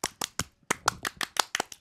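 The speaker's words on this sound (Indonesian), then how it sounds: "Tepuk pramuka." A tepuk pramuka, the Indonesian scout clapping pattern: about eleven sharp, close hand claps in a quick rhythmic sequence with short pauses between groups, clear and with no voices.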